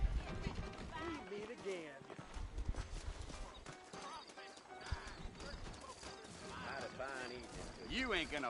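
Horse hooves clip-clop steadily in a Western-frontier setting of the video game Red Dead Redemption, with neighs and whinnies among them and voices talking over the riding.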